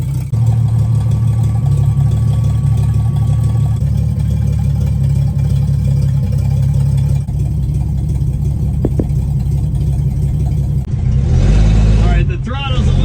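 A 1963 Plymouth Valiant with a slant six engine idles steadily and close up, a low throbbing rumble that holds throughout, with a brief throttle rise near the end.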